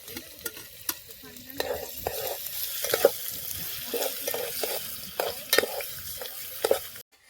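Onion and a little tomato fry in a pan at an outdoor picnic meal by Morbi dam, a close sizzling hiss broken by repeated scraping and clinking strokes of a spoon stirring the mix, with no voices.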